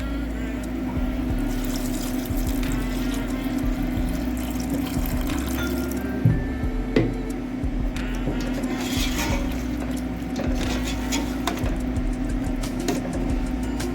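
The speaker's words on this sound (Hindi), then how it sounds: "अब इस जगह पे इसमें थोड़ा सा पानी ऐड कर देते हैं।" Water runs and splashes steadily into a pot of taro curry for several seconds, fairly close, over a constant background hum.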